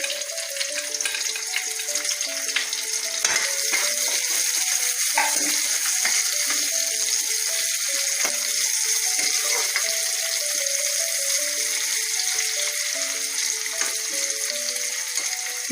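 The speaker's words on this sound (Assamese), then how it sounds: "কেৰাহীত তেল গৰম হ'ল, মই ইয়াত এতিয়া পিঁয়াজ দিম। তেজপাত দিছোঁ আৰু পাঁচফোৰণখিনি দিছোঁ।" Onion, bay leaf and panch phoron fry in hot oil in a wok, giving a loud, continuous close sizzle with crackling pops for the whole stretch, with no talk.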